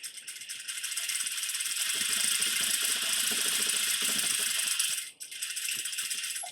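A sewing machine back stitches a seam at a 2.5 stitch length while a zipper is sewn in, giving a steady, close mechanical rattle that runs continuously, dips briefly near the end, then resumes.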